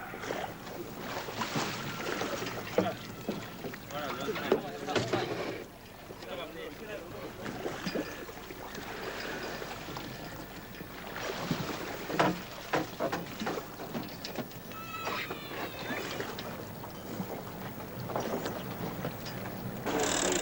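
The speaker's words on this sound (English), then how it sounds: "Now the only thing left to do is to jump in and sail away" Steady rush of wind and water as a small sailboat moves along, with voices talking over the splashing and breeze throughout.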